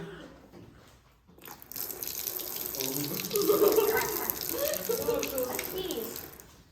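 Cold water pours from a tap in a steady, splashing stream that starts after a short quiet moment, with faint voices in the background.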